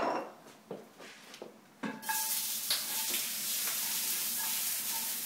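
Food sautéing in a smoking hot pan: a few light stirring scrapes and taps at first, then a loud, steady sizzle bursts up and holds close and bright.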